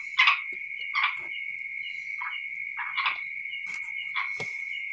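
Small frogs, offered as food to a snake, make a continuous high trilling tone with repeated short rasping croaks roughly once a second. The sound is close and clear, with no talking.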